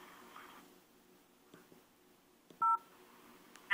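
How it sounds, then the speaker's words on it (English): Touch-tone telephone keypad dialing a number, a few short crisp beeps separated by quiet gaps and faint clicks, near and clear with no voices. "I dialed 317-327-3811."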